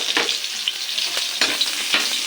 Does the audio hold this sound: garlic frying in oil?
yes